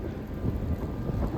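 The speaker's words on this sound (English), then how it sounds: "I guess I was mostly protected from this wind" Blizzard wind blowing along a street in Scarborough, a steady, close, roaring rumble that buffets the microphone without pause, with no talking.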